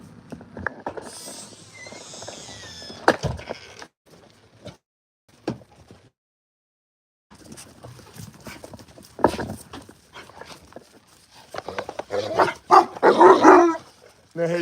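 Several dogs bark indoors in a room of a house, in scattered bursts with quiet gaps and a louder, busier stretch near the end, while a voice is heard at times.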